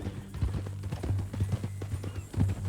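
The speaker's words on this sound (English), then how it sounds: "That new horse?" Horse hooves clopping at a steady walking rhythm in Red Dead Redemption 2, close and moderately loud, with faint voices underneath.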